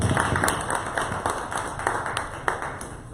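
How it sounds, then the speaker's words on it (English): An audience claps for a presenter at a live podcast event, a burst of many hands that is loud at first and then thins out over a few seconds, with faint voices under it. "Let's give him another round of applause for being here"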